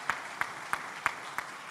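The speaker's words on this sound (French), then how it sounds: "Applaudissons pour nous-mêmes" A church congregation claps together in a steady, even rhythm, about six crisp claps at a moderate, slightly distant level with no talking.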